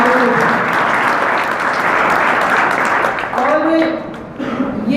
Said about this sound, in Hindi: तो आप एक बार अपने लिए जरूर ताली बजाएं